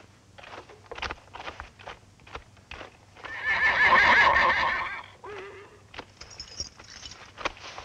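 Hooves clopping in an uneven rhythm, then a loud, drawn-out horse whinny in the middle, followed by more hoofbeats and snorting.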